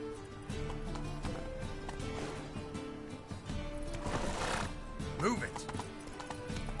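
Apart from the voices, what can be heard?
horse galloping in video game The Witcher 3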